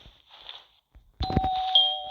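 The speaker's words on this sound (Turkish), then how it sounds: "Zili bastık." A doorbell pressed at a house door, a sustained two-tone electronic chime ringing loud and near after a brief quiet, continuing to the end over some shuffling noise.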